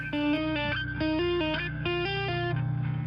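A distorted bass guitar plays a quick metal riff of separate tapped notes with effects, loud and up front, with a sustained low note under it and no talking.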